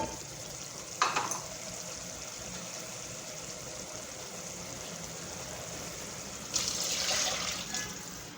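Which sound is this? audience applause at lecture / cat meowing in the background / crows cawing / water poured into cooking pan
water poured into cooking pan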